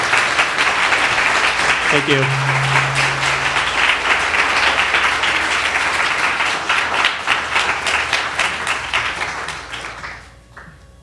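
Audience applause for a speaker at an evening public event, dense steady clapping that carries on for several seconds and then tapers off, with a short spoken thanks heard over it near the start.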